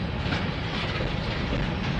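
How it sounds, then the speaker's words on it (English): A heavy freight train loaded with metal, including coil cars, rolls past at close range, giving a steady loud rumble with faint rhythmic clatter from the wheels and no talk over it. "this is like a pretty heavy metal train so far"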